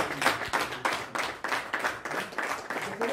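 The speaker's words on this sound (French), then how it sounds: "C'est les bergers qui ont applaudi cette bonne nouvelle" Shepherds clap and applaud in a group after good news, a steady patter of many hands lasting throughout, fairly close and without talk.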